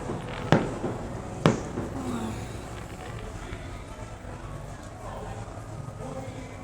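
Two sharp firework bangs go off a second apart in Bulgaria, followed by a quieter, steady background rumble with faint voices.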